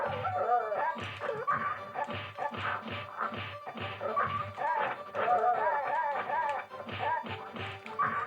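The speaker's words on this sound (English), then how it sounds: "A lot of dog pain sounds." Killer Instinct fighting game sounds on Super Nintendo and arcade: repeated yelping, whimpering dog-like pain cries from a wolf fighter mixed with punchy hit impacts, running continuously under someone talking.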